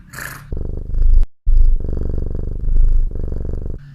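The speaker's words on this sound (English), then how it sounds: "to purr is the noise they make when they're content" A domestic cat purrs loudly and close up, a continuous rumbling throb in several long stretches broken by brief breaths and one sharp gap.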